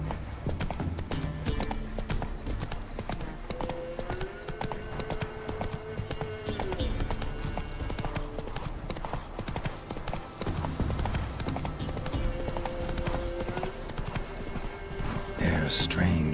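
Roach the horse clip-clopping along in The Witcher 3, steady hoofbeats running throughout over a musical score, with a soft whinny and brief low voices in places.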